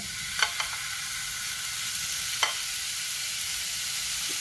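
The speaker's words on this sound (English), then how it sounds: "You hear that sizzle? What you want to hear." Steady, close sizzling of beef tips browning in a hot pan, a continuous crackling hiss with a few sharper pops.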